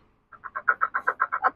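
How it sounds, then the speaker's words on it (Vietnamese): A bird call recording plays from a bird-trap loudspeaker: about a dozen evenly spaced, rhythmic squawking notes in a fast steady series, clear and fairly loud with no other sound behind it. "Đây là tiếng bịt nhái này."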